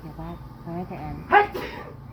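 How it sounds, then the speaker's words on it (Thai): A person lets out one sharp, loud sneeze while stir-frying holy basil, coming right after some quiet speech and followed by a short breathy trailing sound. "เสียงจามมันผัดกระเพราด้วยค่ะเพิ่นได้จามเนาะ"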